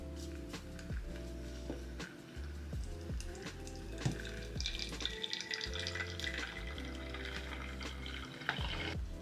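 Water from a kettle is poured steadily over drip coffee, a faint running trickle with small drips and clinks in a quiet kitchen, and no one speaking.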